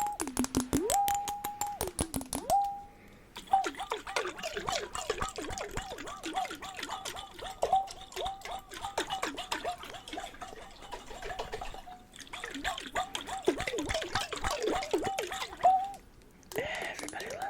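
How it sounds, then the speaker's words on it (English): Water sloshing and dripping inside a jar as an ASMR trigger, close wet splashes and trickles in irregular bursts with soft tapping, continuing throughout with occasional quiet gaps. "Everybody loves water jar."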